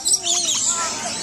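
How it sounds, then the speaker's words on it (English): Birds being fed outdoors give soft, brief chirps and twittering calls, close and fairly faint over a low ambient background. "You see the bird?"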